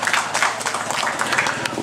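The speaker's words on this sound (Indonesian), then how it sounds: "tepuk tangan untuk pengurus" Applause for the committee at a residents' meeting in a housing complex, a dense burst of hand clapping from a room full of people lasting the whole stretch, steady and fairly close.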